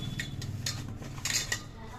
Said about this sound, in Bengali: এদিকে আমি আনাজপাতিগুলো কিন্তু কেটে রাখছি